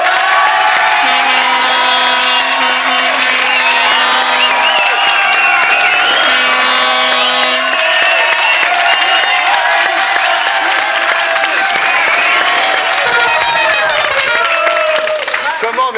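A studio audience on a French TV game show applauds and cheers in a loud, continuous wash of clapping and crowd noise, with some voices and music mixed in.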